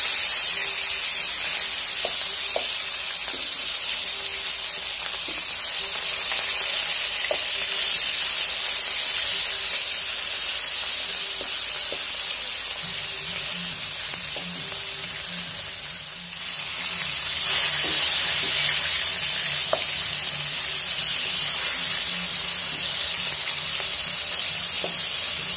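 Rohu fish pieces fry in hot oil over a high-medium flame, a steady loud sizzle and hiss lasting throughout with a brief dip midway, no talking.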